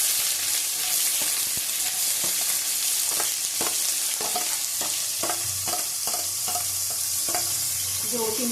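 Chopped onion sizzles in hot oil in a wok, with a steady broadband frying hiss and a series of sharp, regular clinks and scrapes from a spatula stirring, close and loud, no talking.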